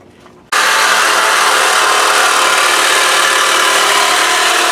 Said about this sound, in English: we're just gonna go in and cut it the rest with a sawzall